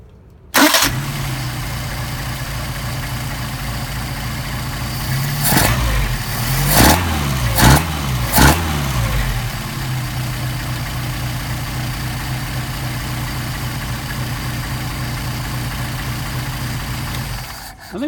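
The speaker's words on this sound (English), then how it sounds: "Try a hot start." Solex carburetors feed an engine that hot-starts with a short crank and revs through a few sharp blips, then settles into a steady, even idle that runs on alone and close by.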